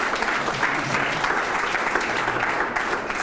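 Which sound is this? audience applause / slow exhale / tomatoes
audience applause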